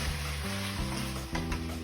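Tofu frying in a hot pan of spicy Sichuan-style sauce, giving a steady, close sizzle with faint stirring clicks and no voices.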